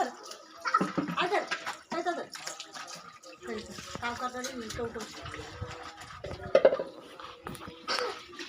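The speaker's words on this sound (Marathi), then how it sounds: "2 बादल्या पाणी टाकतो." Water splashes and pours in bursts, like buckets being emptied, with people talking over and between the pours.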